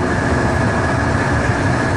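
A train on the Riihimäki–Tikkurila line in Finland gives a loud, steady rumbling roar of rail noise, constant and close throughout with no talking.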